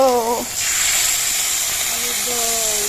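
Potato and pea curry (aloo dum) simmers on a large wood-fired clay stove in winter, giving a steady broadband hiss and sizzle throughout, with brief voices talking at the start and again near the end.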